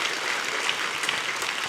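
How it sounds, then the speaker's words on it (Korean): Worshippers at a Sunday church service clap together in a short, dense burst of applause, steady and fairly loud throughout, with no speech over it. "하나님께 감사와 영광의 박수 올려드리겠습니다"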